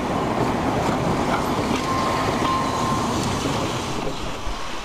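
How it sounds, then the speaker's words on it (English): An Isle of Man Electric Railway train on 3-foot gauge track rolls along with a steady, broad rumble and faint rail squeal, heard from a moderate distance without talk. "the line connects Laxey and Ramsey with this 3-foot gauge electric railway"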